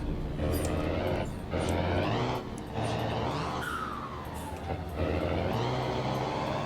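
A loud Mercedes-Benz 1113 truck engine in Euro Truck Simulator 2 drones steadily, rising and falling as the throttle is blipped between shifts, with a continuous rumbling roar.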